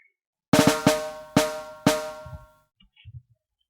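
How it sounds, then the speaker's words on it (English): An afrobeat snare roll sample hits in a quick burst of sharp, tonal strikes, then three spaced heavier hits and a few faint soft taps, heard alone. "This is a snare roll."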